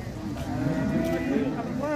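A black Simmental cow gives a loud, drawn-out moo close by, with some faint talk in the background.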